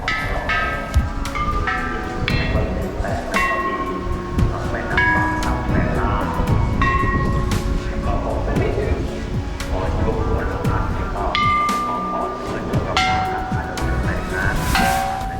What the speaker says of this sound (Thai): เดี๋ยวเรามาตีระฆังครับ